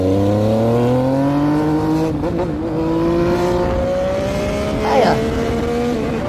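A motorcycle engine revs and climbs steadily in pitch as the bike rides off, loud and close, with a brief spoken exclamation partway through and a short scrape or squeal near the end.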